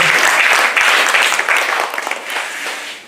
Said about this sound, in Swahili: Pige makofi.